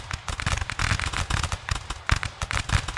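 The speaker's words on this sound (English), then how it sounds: "I am gonna shoot you if you don't get out of my way!" Gunfire in the video game Rise of Liberty, a rapid, dense run of sharp cracking shots in close succession, loud and near.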